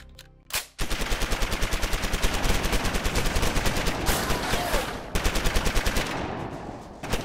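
Rapid, sustained automatic gunfire rattles in long bursts, loud and relentless, with a brief pause near the end before resuming.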